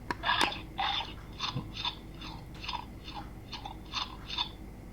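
A Funville Dinos Unleashed toy T-Rex makes a series of rhythmic crunching chew sounds, about nine bites in a row, close and fairly clear with no talking.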